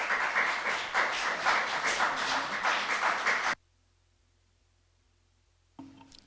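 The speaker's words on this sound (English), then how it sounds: "And thank you for your applause" An audience at a council meeting claps steadily in a dense burst of applause lasting a few seconds, then it cuts off into near silence.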